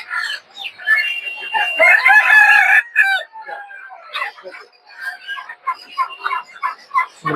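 Several hill roosters crow in long rising calls over scattered clucking and poultry market chatter at Tongi bazaar, fairly close and loud, with people talking nearby.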